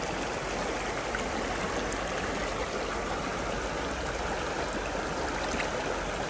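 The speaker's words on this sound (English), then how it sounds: "This creek is low and clear and it's very sunny." A small, low, clear trout creek flowing steadily outdoors, a loud, continuous close-up babble and rush of water with no voices.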